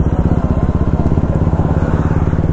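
A motorcycle with a modified exhaust rumbles close by, riding past police with a steady, loud, throbbing low pulse that holds evenly throughout.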